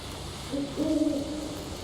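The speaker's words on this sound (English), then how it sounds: "Oh, screw you, owl." An owl hoots once in the horror video game Daylight, a short low hoot rising out of a quiet, hissy background.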